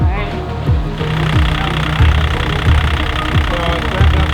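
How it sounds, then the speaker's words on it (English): A boat engine revs repeatedly in short, rising pulses over a steady idling throb, close and fairly loud, with people talking over it. "rev the engine, Ash."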